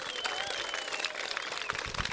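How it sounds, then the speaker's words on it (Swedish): Applause from a large audience of roughly a thousand at a Swedish summer TV show, a dense steady wash of clapping with some crowd noise, loud and sustained throughout. "Ge en jätteapplåd för dagens idolträffare."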